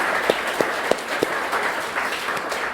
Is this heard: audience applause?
yes